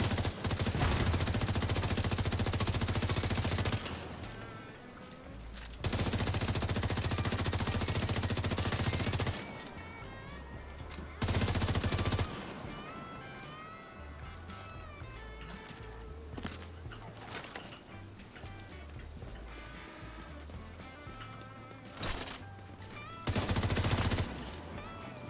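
Bursts of rapid gunfire from shooting in The Division 2, loud clusters of automatic fire broken by quieter gaps, with faint game sounds in between.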